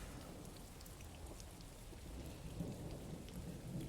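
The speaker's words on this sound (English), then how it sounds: "Just notice the rain sounds. It's relaxing." Steady rain added to a live stream: continuous hiss of falling rain, heavy and even throughout, with a low rumble underneath like distant thunder.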